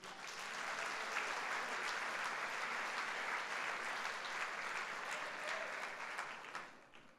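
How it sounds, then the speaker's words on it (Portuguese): Steady applause from a church congregation at a Sunday service fills the space for about seven seconds, a dense even wash of clapping that holds level and then tapers off at the end. "Vamos dar um aplauso a Jesus?"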